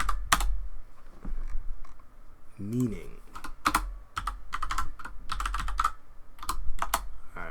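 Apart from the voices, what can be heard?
typing on computer keyboard with one hand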